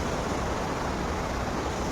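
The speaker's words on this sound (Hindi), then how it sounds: "अभी थोड़ा थोड़ा निकल रहा है इससे पानी" Water trickling out through a canal dam gate that is only slightly open, a steady broadband rush of flowing water with no gaps, constant and fairly loud.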